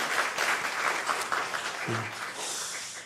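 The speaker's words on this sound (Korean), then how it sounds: "다시 한번 박수로 격려하겠습니다" A congregation at a Baptist church Friday prayer meeting claps in encouragement: steady, crowded applause filling the room, fairly close and even, with a brief low hum partway through.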